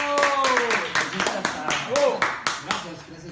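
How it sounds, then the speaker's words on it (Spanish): Audience applause and clapping at a live Spanish-language music talk show, a ragged burst of claps with cheering voices mixed in, fairly close and steady for a few seconds. "Un aplauso para ¡bravo!"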